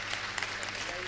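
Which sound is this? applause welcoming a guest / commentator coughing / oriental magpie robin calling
applause welcoming a guest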